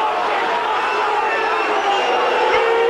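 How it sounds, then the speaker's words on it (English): Football crowd of Ayrshire supporters at a Kilmarnock versus Hearts match, a sustained, dense wash of crowd noise that could be booing, steady and loud with a commentator talking over it. "Colin Cameron's chance had the Ayrshire support booing their own defence"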